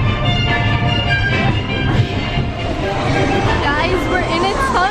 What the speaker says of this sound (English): please stay seated while the train is moving